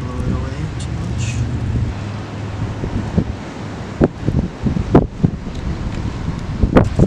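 Wind buffeting the microphone outdoors on the coast, a steady low rumble with gusty bursts and rustling, under a person talking nearby and occasional cooking clatter.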